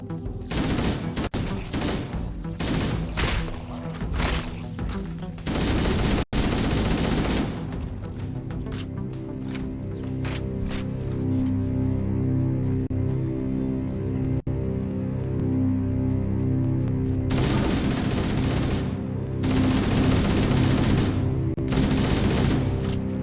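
Sustained automatic gunfire from Halo: Combat Evolved, with dense, continuous bursts of shots and explosions layered over a steady game music bed for most of the stretch, with a brief lull in the middle.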